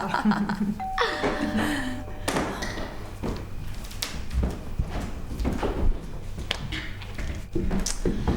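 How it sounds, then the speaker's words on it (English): A doorbell chimes briefly at the start, followed by thumps, taps and door handling sounds in a domestic setting, with scattered knocks and movement. "If you're going to ring the bell, you might at least wait until I've answered the door."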